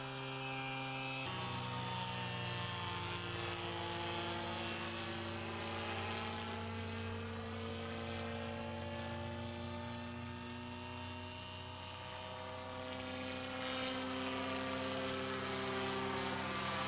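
A small model airplane with a little motor flies, giving a continuous droning propeller whine that holds steady and shifts slightly in pitch as it passes, alone without talk.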